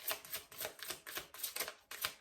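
A deck of tarot-style cards being shuffled close up, a quick series of papery riffling bursts in an uneven rhythm, soft and with no voices.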